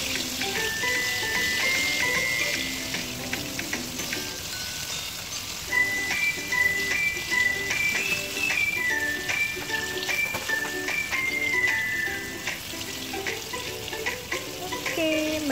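Pork ribs deep-fry in hot oil with a continuous crackling sizzle and occasional stirring, close and fairly loud, while music plays underneath.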